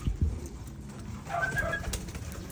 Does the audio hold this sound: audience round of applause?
no